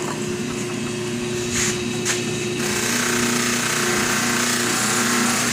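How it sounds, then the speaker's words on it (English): A ten-year-old electric buffer runs with a steady mechanical whine and hum, nearby and moderately loud, with a brief handling noise before it settles into a constant drone. "It's a really good buffer."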